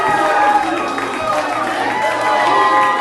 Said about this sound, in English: The crowd deafening here tonight.